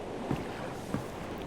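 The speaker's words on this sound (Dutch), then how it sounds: "Een boot." Water laps against a boat in The Worry of Newport, a soft continuous wash with two gentle knocks or splashes about half a second apart, set against a breezy, hissing background.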